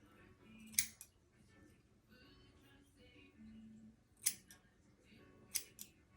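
Scissors snip hair while a man's haircut unit is installed, giving three sharp, close metallic clips spaced apart over a quiet background with faint murmuring.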